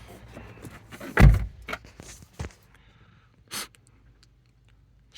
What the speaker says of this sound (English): Gonna close the door